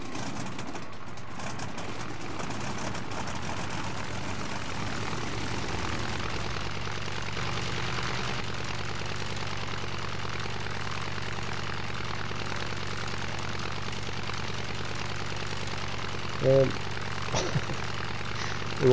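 A boat engine in the survival game Stranded Deep starts up and runs, a steady droning motor filling the scene with a couple of brief clunks near the end.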